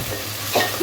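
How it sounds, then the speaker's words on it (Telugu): Mustard seeds, cumin, green chillies and curry leaves crackle in hot oil for a lemon rice tempering, a short dense sizzle with a brief stirring scrape partway through. "నూనెలో ఒక చెంచా పోపిత్తులు, ఒక చెంచా జీలకర్ర, పచ్చిమిర్చి, కల్జామాకు దూరగా గోలించుకోవాలి"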